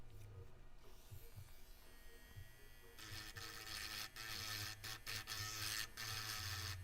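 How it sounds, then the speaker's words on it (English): A rotary grinding tool works down solder points on a laptop motherboard, a steady high whine that rises to a harsher, louder grind halfway through, with brief dips as the tool lifts. "I got to grind down these points, though."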